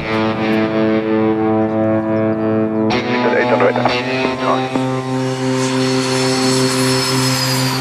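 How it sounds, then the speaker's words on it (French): Two Alpha Jet military jets taking off, a loud steady engine drone with strong tonal whine that swells into a broader roaring rush partway through, continuing at close range for several seconds. "je confirme numéro 1 et 2 Alpha Jet au décollage"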